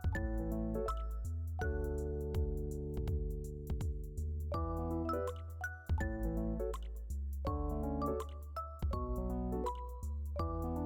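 Liquid dripping and plopping while soaked wheat is drained for porridge, irregular close drops and splashes, some ringing tonally, scattered through ten seconds.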